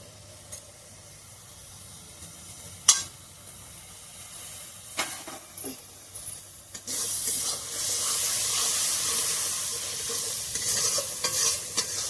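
Jackfruit curry in a pan sizzles and hisses as chilli powder goes in, with a few clinks of stirring early on, then a steady, louder frying hiss through the second half; no one speaks.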